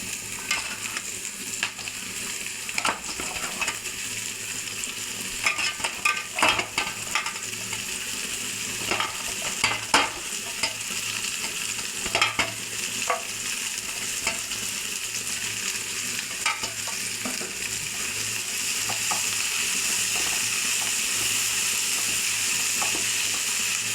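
Bitter gourd stir-fries in a pan, a steady close sizzle with frequent scraping and clattering stirs scattered throughout.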